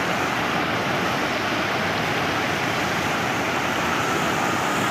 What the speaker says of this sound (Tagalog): Ing kusog na in baha.